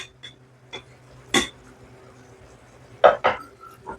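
Small fish going into a simmering pot of red amaranth leaf curry with karamcha, heard as a few sharp clinks and knocks of utensils against the pot, spaced out over a quiet kitchen background.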